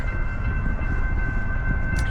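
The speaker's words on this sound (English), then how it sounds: "If you hear bells in the background, that is the train coming." A loud, steady rumble of a nearby train with a sustained ringing tone running through it, continuous throughout.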